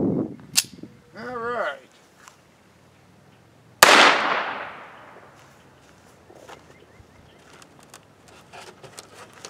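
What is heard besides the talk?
gunshots firing plastic gallery ammunition into surfboards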